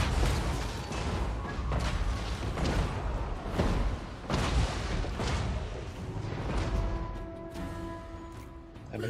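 Cannon fire booms repeatedly across a Total War: Warhammer 3 battle. Several heavy thuds and blasts land over the stretch, loud and rumbling over continuous battlefield noise.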